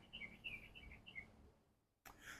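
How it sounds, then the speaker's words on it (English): Songbirds chirp outdoors in a quick run of bright, repeated tweets, fairly faint over a soft background hush, then a pause before another burst of calls. "the birds are so beautiful"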